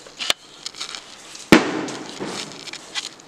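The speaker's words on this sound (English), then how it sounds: "There's fireworks." A single firework cracks outside, one sharp, loud bang standing out from a quieter pop and low background noise around it.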